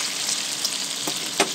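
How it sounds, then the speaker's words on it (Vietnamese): Pork chops sizzle and fry in a pan while being stirred now and then, a constant crackling hiss with a few soft scrapes and clicks near the end, no one talking. "Remuer de temps en temps."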